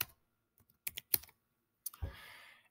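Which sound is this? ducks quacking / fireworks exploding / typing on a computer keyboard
typing on a computer keyboard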